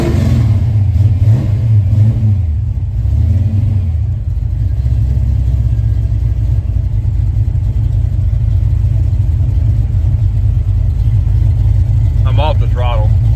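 A car engine rumbles and revs under light throttle, a loud low continuous drone that settles toward idle, with voices talking briefly near the end.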